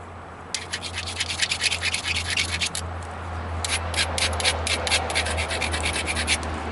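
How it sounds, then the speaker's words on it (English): Rainbow obsidian blank being ground, a gritty rubbing scrape in quick rhythmic strokes over a low steady hum, close and fairly loud, without talk. "I'm going to grind it"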